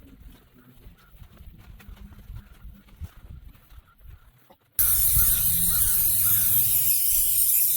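Reproofing spray hissing onto an oilskin jacket, a sudden loud continuous aerosol spray that starts after a stretch of quiet handling sounds and keeps going steadily until the end.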